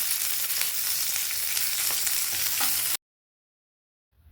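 Cumin seeds, dried red chillies and curry leaves crackle and sizzle in hot oil as a tempering for tomato dal, a steady dense frying hiss for about three seconds that cuts off abruptly into silence.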